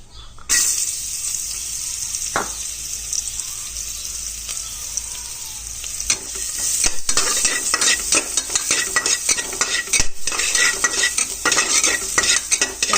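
Carrot pieces frying with cumin and turmeric in a kadai, a steady loud sizzle with a metal spoon scraping and stirring throughout, the clatter growing busier in the second half.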